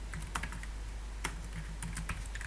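Computer keyboard typing at a desk, scattered light key clicks in an irregular rhythm over a steady low hum, close and fairly quiet.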